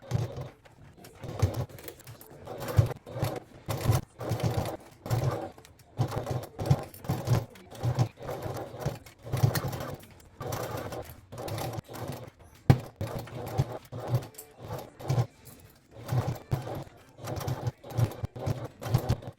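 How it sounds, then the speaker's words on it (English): A sewing machine stitches a 3/8-inch seam allowance on a crossbody bag, attaching the gusset to the back panel. Rapid, steady mechanical chatter runs in bursts with short pauses, close and clear, with no talking. "we're going to go to the sewing machine and we're going to stitch a 3/8 of an inch seam allowance"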